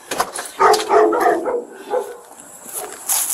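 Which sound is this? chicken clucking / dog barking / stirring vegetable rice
dog barking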